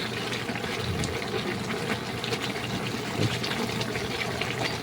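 Papaya and string beans simmer in coconut broth with chicken in an uncovered pot, giving a steady, close bubbling and gurgling that runs unbroken and alone.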